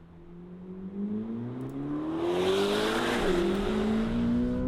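A Chevrolet C8 Corvette ZR1 with a 5.5-liter twin-turbo V8 revs up hard, its engine note climbing steadily in pitch and growing louder and closer, with a rising whoosh near the end.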